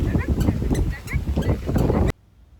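Cool wind gusting across a farm orchard, buffeting the microphone in a loud, steady rumble beneath a person talking, then cutting off abruptly near the end.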